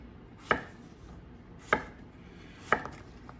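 A knife cuts summer squash into big, thick pieces with three separate, evenly spaced chops on a board, each a crisp close thunk, and quiet between them.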